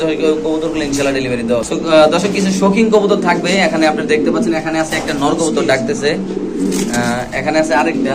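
Pigeons coo at a bustling pigeon market, including large pairs and Lahori and King breeds, their soft repeated coos close and steady beneath continuous talk from traders and buyers.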